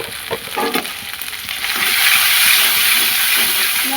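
Spice masala is stirred and fried in hot oil for a vegetarian potato curry, making a steady close-up sizzle that swells louder partway through, with a few scraping stirs.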